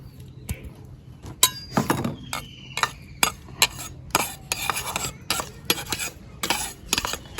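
Raw mango pickle is mixed with spices and mustard oil in a metal bowl, giving repeated close scraping, clinking and squelching strokes in an irregular rhythm.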